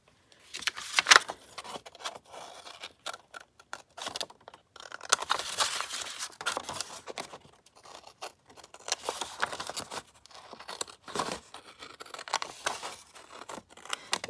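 Scissors cutting paper for a grungy wallpaper journal, bursts of close crisp snipping and rustling with short pauses between cuts.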